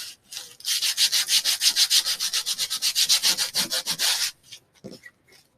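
Close, fairly loud back-and-forth strokes of light sanding across junk journal paper sheets, running in a quick regular rhythm for about four seconds, then a few faint scrapes.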